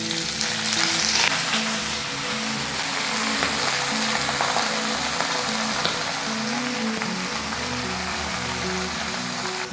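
Gourd greens hitting hot oil tempering in a pan, giving a steady, close, loud sizzle and crackle that holds throughout with no talking.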